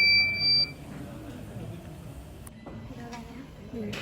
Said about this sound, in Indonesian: ketika gerakan terdeteksi,